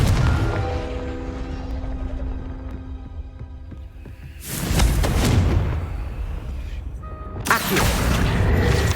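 Confringo fire-spell blasts in Hogwarts Legacy: two sudden, loud explosive bursts several seconds apart over a steady humming game background, each with a booming rush that tails off.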